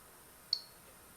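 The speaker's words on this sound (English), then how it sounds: "this is a Geiger counter I made years ago, maybe 10 years ago" A homemade Geiger counter gives a single sharp, faint tick over a quiet background hiss.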